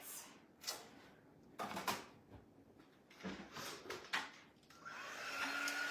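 A hair dryer is used to dry a DIY bunny transfer project. A few knocks and handling clatters come first, then the dryer's steady airy whir starts up near the end and keeps going.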